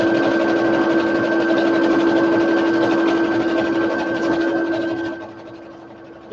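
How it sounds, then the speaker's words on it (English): A sewing machine runs a continuous top stitch along a table runner, a loud, steady mechanical whir with a fine rapid needle pulse that slows and quiets near the end. "So I'm just going to put this top stitch in."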